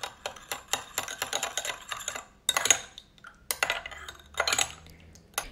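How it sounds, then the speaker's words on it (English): A noodle sauce with sesame oil and black pepper is stirred, giving rapid light clicking taps of a utensil in bursts with a short pause midway, close and fairly quiet. "And give it a stir."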